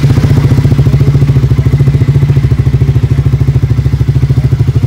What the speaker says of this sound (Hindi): सबसे पहले आप इसके साउंड को सुने आइडल में